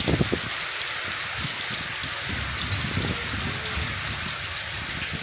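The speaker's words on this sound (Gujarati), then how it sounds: "આજનો વરસાદ ચાલુ થયો ભાઈ" Steady rain pours down, a dense, even hiss of drops on surfaces that holds at the same level throughout with no voices.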